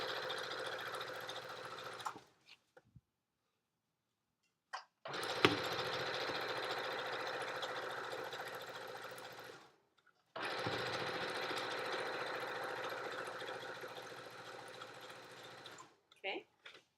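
A sewing machine stitches a zipper onto a make-up bag, with two long steady runs of rapid mechanical whirring broken by a brief pause, close and fairly loud.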